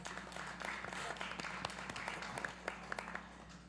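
Audience at a forensic and criminal sciences symposium gives steady, moderate applause, sharp claps rising over a low hum in a large room, heard faintly.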